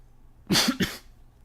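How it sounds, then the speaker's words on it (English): A quick hiccup-like catch in the throat runs straight into a short cough, two close bursts with nothing else around them. "Oh, a hiccup there, and it somehow turned into a cough."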